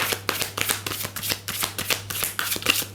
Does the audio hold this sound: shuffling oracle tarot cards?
yes